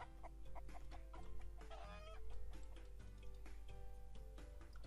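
Chickens cluck in the Roblox game Skyblock, a run of short, repeated clucks and one drawn-out squawk over a steady low background tone, fairly faint overall.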